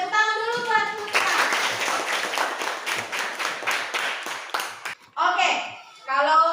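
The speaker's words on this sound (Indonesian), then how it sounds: "Tepuk tangan dulu buat kita." Children clap their hands together in a school classroom lesson, a loud, dense burst of applause lasting several seconds between stretches of a teacher's voice talking before and after.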